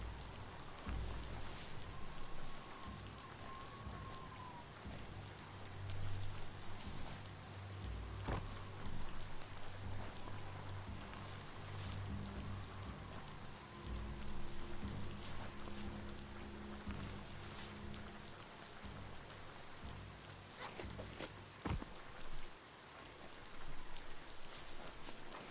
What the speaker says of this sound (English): Because we got rain now where we are.